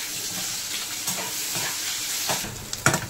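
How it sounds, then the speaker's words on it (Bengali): Chopped onions sizzle and fry in hot oil with garam masala and rendered mutton fat for a yellow peas curry, a steady close crackle with occasional stirring scrapes. "এবার এর মধ্যে দিয়ে দেব পেঁয়াজ কুচি"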